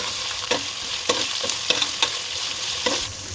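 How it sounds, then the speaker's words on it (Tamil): Ginger garlic paste and curry leaves sautéing in a pan for a Kayalpattinam-style wedding kalari curry, a loud continuous sizzle broken by several sharp spatula clacks and scrapes, with no voices. "இஞ்சி பூண்டில் பச்சை வாசனை போகிற அளவு நல்லா வதக்கி விட்டுக்கலாம்"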